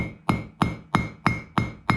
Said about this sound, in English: now I'm going to take this hammer and pound down the corners into a